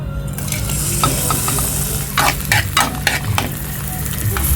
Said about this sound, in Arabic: هنحط الطاسه دي على النار وفيها نقطتين زيت، وهنحط فيها قرن فلفل كده مشطشط ومولع